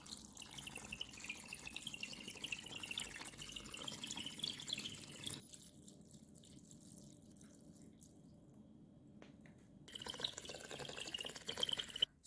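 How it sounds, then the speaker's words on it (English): Cold water pours into a bowl of noodles for soaking, with a steady splashing flow, pauses to quieter trickles, then starts pouring again. "Just add cold water,"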